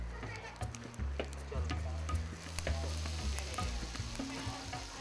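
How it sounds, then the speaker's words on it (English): A coal-roasted whole stuffed fish saji sizzles and crackles steadily at close range beneath a low hum, with people talking over it. "Now our roast saji has arrived and it's sizzling."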